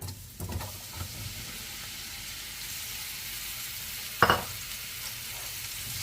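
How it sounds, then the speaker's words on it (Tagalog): Beef and mushrooms sauté in olive oil in a stir-fry pan with a steady, close sizzle throughout and one sharp utensil clink partway through. "Kaya igisa na natin."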